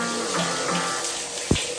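Cold shower water runs steadily to rinse off after a sauna in arctic northern Sweden, a continuous close splashing wash with a brief louder splash near the end.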